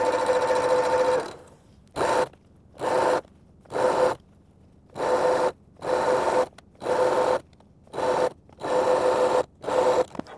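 A sewing machine stitches quilt strips together in a long opening run followed by a series of short, evenly spaced bursts of motor hum and needle rattle, loud and close with quiet gaps between.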